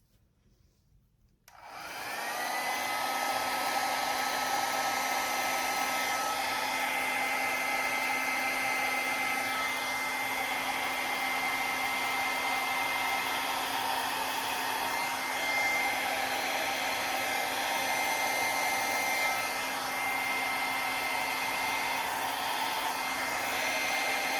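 A hair dryer blows steadily across wet acrylic paint on a canvas during a blue acrylic pour, starting after a short quiet moment and then running loud and unbroken with a constant whine.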